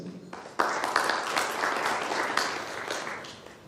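Dense, steady applause from a conference audience at a discussion on the state of AI in Kenya, starting soft and swelling abruptly into full clapping that holds for several seconds.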